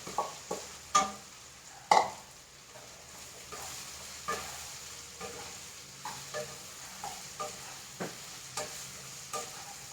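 Bitter gourd sizzles and crackles in hot coconut oil, stirred now and then with a spatula that clacks against the pan in a loose, irregular rhythm.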